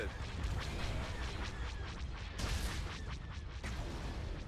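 Heavy gunfire and laser cannon blasts from a Star Wars space battle video game, in a dense, continuous barrage of booming shots with sharp bursts throughout.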